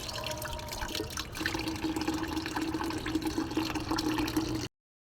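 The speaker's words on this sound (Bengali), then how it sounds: "কমলাটা ধুয়ে নিচ্ছি" An orange rinsed under a running tap, with a steady stream of water splashing and trickling throughout, close and moderately loud, no voices.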